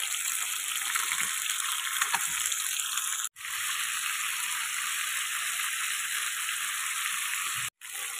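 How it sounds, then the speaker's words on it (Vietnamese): Tuna fish frying in a pan, a loud, dense sizzle crackling steadily close up, briefly cut off twice. "Bây giờ mình đã chiên hai mặt vàng đều rồi"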